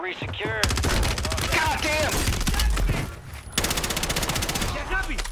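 Call of Duty Warzone gunfire rings out in dense rapid bursts of automatic shots that carry through most of the passage, with a short lull in the middle, loud and close.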